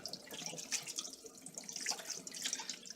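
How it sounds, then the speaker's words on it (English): Tap water runs steadily into a sink while a vacuum cleaner part is rinsed beneath it, a quiet splashing trickle with small irregular spatters and no talking. "So, just going to rinse this out here."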